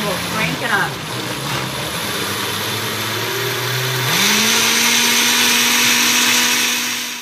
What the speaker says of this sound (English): Let's turn this blender on.